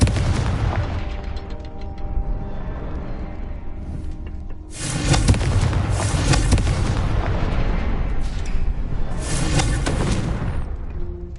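Confringo fire spell blasts in Hogwarts Legacy, loud booming explosions rolling one into another, with big bursts around the middle and near the end over a constant rumble.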